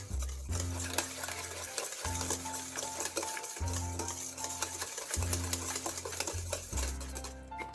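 A spoon stirs wet fruit cake batter with orange juice in a bowl, rhythmic scraping strokes repeating about every second and a half, close and clear with occasional clinks against the bowl and no talking.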